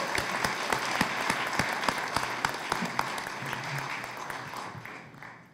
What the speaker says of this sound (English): Please give another round of applause for our new Freeholders.